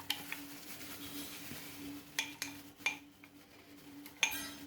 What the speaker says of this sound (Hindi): जो हमने अपने बीन्स और सैलड को सारे इंग्रेडिएंट्स और मसाले डाल के रखा था उसके अंदर हम मिक्स कर देंगे